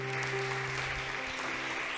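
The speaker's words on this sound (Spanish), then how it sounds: "Demos un aplauso al Señor." Applause for the Lord at a church service, a steady wash of clapping from a congregation that holds evenly through the whole short stretch, with a sustained organ or keyboard tone underneath.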